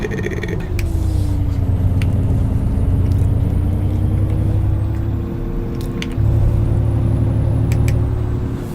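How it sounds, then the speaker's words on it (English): Wind noise roars inside a Renault truck cab while driving, a loud steady rumble and rush under a low engine drone, with faint ticks and whines over it and no voices. "that wind noise is from the Renault."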